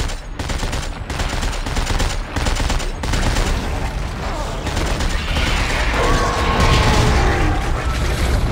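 Rapid bursts of automatic weapon fire in the sci-fi survival horror game Dead Space 3, dense and loud with mechanical clatter, ending in a wash of echoing impacts. Faint voice underneath.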